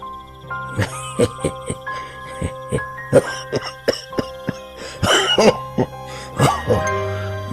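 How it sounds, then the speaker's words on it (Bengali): An old man's coughing and throat clearing, a run of close, sharp bursts repeating irregularly throughout, with a hoarse, rougher stretch near the end, heard on a foggy winter night. "কদিন থেকে কাশির টানটাও বেড়েছে"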